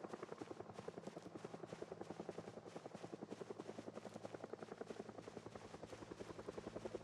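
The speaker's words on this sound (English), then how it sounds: "You hear the helicopter." A helicopter in the survival game Project Zomboid, a steady rapid rotor thump beating evenly for the whole stretch, fairly faint as it passes overhead, with no talk.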